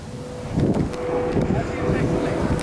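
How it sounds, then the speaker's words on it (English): Strong outdoor wind buffeting a microphone, producing a steady, loud, rumbling roar that swells and fades slightly throughout, with no talk over it. "There's so much wind"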